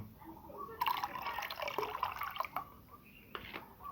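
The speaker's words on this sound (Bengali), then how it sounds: "এবার এর মধ্যে অল্প পরিমাণ জল দিয়ে দেব" A little water is poured into a homemade plant fertilizer mixture, giving a short close splashing trickle that eases off into scattered drips against quiet surroundings.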